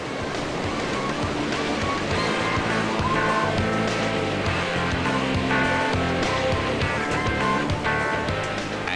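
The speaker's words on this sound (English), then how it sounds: "they brave House Rock Rapid but get dumped by the big waves" Big standing waves of House Rock Rapid on the Umkomaas River during a canoe marathon, a continuous loud rushing and churning of whitewater with no talk.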